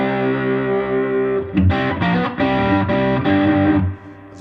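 An electric guitar runs through an overdrive pedal, giving a thick, distorted sustained chord with a few re-struck chords in the middle; it plays loud and alone, with no talking.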